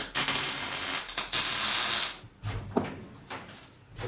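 Tack welding the first hinge onto a mini monster truck bed: loud, broadband sizzling crackle in several bursts, the longest near two seconds, then quieter, shorter crackles with brief pauses between.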